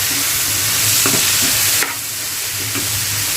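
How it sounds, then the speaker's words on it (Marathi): Whole okra stirred in a frying pan, a steady close sizzle of frying with a few soft scrapes of the spatula, the sizzle dropping slightly partway through. "पूर्ण भेंडी मी घातलेली आहे आणि पहिल्या याला चांगली हलवून घेऊया"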